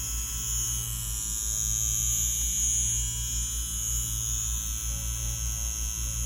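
Ambition Soldier wireless tattoo machine running in a steady, even electric buzz with a low hum and a thin high whine, constant and close, with no talking.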